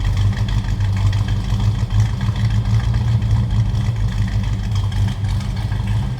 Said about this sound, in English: little rumble coming out of this numbers matching 350